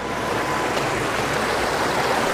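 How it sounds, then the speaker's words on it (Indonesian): Curug Ceret waterfall in Cisompet, Garut, a modest, not very high fall, gives a steady broadband rush of flowing water, close and continuous with no voices. "Airnya sih nggak terlalu deras ya, nggak terlalu tinggi Curug Ceretnya ini."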